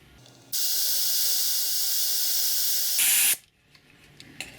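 Air hissing out of the front-left tyre valve on a Mazda, a steady loud spray-like hiss lasting about two and a half seconds, rising briefly brighter before it cuts off, with quiet handling noises afterward.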